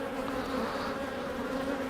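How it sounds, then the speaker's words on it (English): Dense honeybees swarm over a hive frame, producing a continuous close buzzing hum that stays even and steady throughout, with no voices. "there are so many bees on this frame here"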